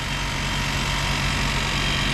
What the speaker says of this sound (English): The engine runs automatically if you open the hood.